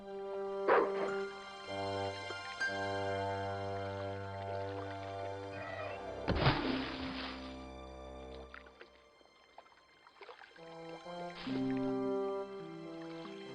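A dog is dunked into water in the Broken Sword video game, with a short burst of splashing over a steady bed of game music, followed by a few yips and whimpers.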